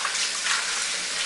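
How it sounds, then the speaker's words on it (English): Water runs steadily from a tap over raw shrimp being rinsed in a kitchen, a continuous close splashing flow heard alone. "You want to rinse it off and keep draining it until the water runs clear."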